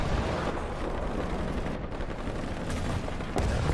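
Dense, continuous gunfire from the tank combat game War Thunder, with overlapping shots and booms forming a steady roar and a few sharper bursts toward the end, heard alone without talk.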